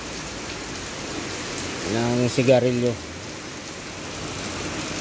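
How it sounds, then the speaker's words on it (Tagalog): Heavy rain pours steadily throughout during a truck unloading stop in Bicol, a dense hiss of drops on surfaces, with someone briefly speaking in the middle. "Nabutan kami ng malakas na ulan dito."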